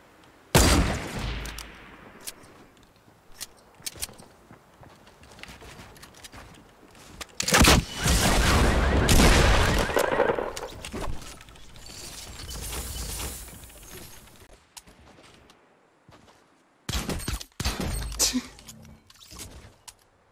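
Gunfire in the video game Fortnite: several sharp bursts of shots, some as single cracks and others as louder sustained clusters, spread unevenly through the stretch with quieter gaps between.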